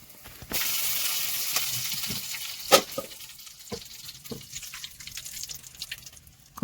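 Mustard seeds temper in hot oil in a pan, sizzling steadily after a sudden start, with a few sharp pops and clinks of a utensil scattered through, close and fairly quiet.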